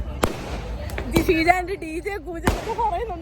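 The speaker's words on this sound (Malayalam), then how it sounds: "ഭയങ്കര പടക്കം പൊട്ടിയിട്ട്" Firecrackers burst at a New Year celebration: three sharp, loud bangs go off at irregular intervals, with people talking throughout.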